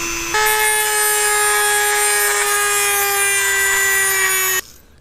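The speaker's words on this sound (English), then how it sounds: "So I'll use the sandpaper bit to take it down to size so that it's the right diameter." A rotary tool fitted with a sandpaper bit grinds a part down to the right diameter while a classic motorcycle headlight is being fixed. It makes a steady high whine close by for about four seconds and then cuts off, with no talk.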